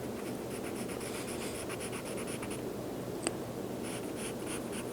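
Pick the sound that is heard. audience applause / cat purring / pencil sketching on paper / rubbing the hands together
pencil sketching on paper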